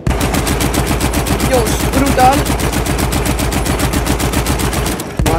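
Rapid, loud, sustained turret machine-gun fire from Battlefield 1 on the Sinai Desert map rattles in a steady stream near a locomotive, with brief exclamations from a player over it before the burst cuts off at the end.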